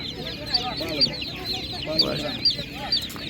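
Chickens clucking at an animal market, a dense close chorus of overlapping clucks and chirps with a few louder squawks, steady throughout.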